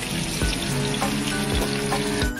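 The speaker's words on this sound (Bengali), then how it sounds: "আমি কিন্তু খুব কড়কড়ে করে ভাজবো না মাছগুলোকে" Rohu fish pieces fry in oil for a Bengali masala curry, giving a steady, dense sizzle with soft periodic thumps and scrapes as the pieces are turned.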